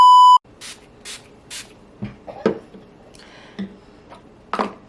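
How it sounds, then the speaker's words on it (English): A Five Below daily facial spray gives three quick hissing mists in a row, close and clear, followed by a few light clicks and handling sounds in a quiet room. "Now let's try the daily facial spray from Five Below."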